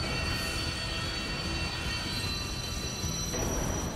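Train rumbling along in The LEGO Movie Videogame, a dense steady roar with high metallic squealing tones throughout, loud and alone without talk.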